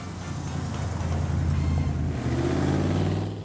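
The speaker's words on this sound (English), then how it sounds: "Isn't this a smooth old car though? Oh man, well that's a Merc." A 1960s Mercury classic car with a 4-speed drives along, its engine a steady low rumble that holds close and even, with a faint rise in pitch toward the end.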